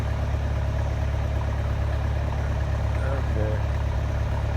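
A farm tractor's engine idles steadily near a hayfield, giving a constant low, throbbing rumble that stays at the same level throughout without pause.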